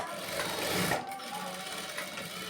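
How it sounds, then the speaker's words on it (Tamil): Sewing machine stitching the seam edge of a lightweight blouse, a steady continuous whirring hum close by that swells slightly before easing, running alone without talk. "இப்போ ஓரத்தில் தையல் போட்டு கட் பண்ணி எடுத்துட்டோம்."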